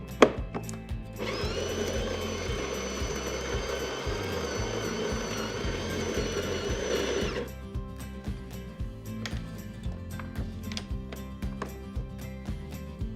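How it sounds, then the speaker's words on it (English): The built-in grinder of a DeLonghi La Specialista espresso machine grinds coffee in a loud, steady whirring burst of about six seconds, set against a background of rhythmic clicking. "So we're going to adjust the grinder to a finer setting to get the extraction just right."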